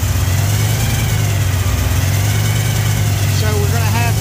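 A supercharged Chevy 383 small-block V8 in a third-generation Camaro IROC Z28 idles loudly and close, a steady deep lumpy rumble, with someone speaking briefly near the end.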